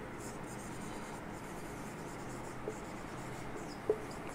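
A pen scratches steadily on paper while math notes on bilinear forms are written by hand, a faint, continuous scratching with a couple of light taps, quiet and close.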